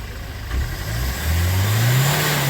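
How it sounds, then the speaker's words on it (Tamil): A car engine revs up close, its pitch climbing steadily as the accelerator is pressed hard and held. "இப்போ இன்னும் கொஞ்சம் ஃபோர்ஸாக ஒரு அழுத்துங்க. ப்ரூம்னு ஒரு அழுத்துங்க"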